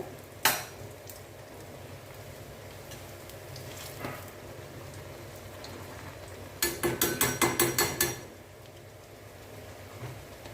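Rice batter frying in hot oil for Chettinad vellai appam gives a steady low sizzle, punctuated by a sharp knock early on and a quick run of rhythmic metallic taps near the end.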